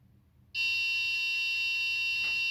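A shrill MQ-2 gas sensor buzzer on an Arduino Uno, triggered by incense smoke, starts abruptly and holds a continuous piercing tone, loud and close, with no voices.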